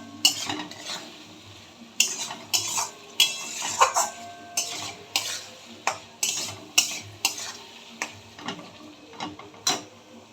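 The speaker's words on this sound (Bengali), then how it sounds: "আঁচটা মিডিয়াম ফ্লেমে রেখে ভালো করে কষিয়ে নেব।" Chilli, ginger and garlic paste for mutton kosha is sautéed over a medium flame, with repeated metal spoon scrapes and stirring clinks against the pan over a soft sizzle, steady and close.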